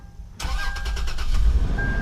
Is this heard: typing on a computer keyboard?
no